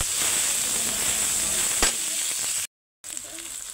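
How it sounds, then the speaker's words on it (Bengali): Onion, chili, ginger paste and garlic paste fry in a pan with a steady, close hiss of sizzling oil, broken by one sharp pop and a brief silence near the end before the sizzle resumes. "ঝাল পেঁয়াজ দিয়ে সুন্দর করে লাল লাল করে ভেজে নেবে"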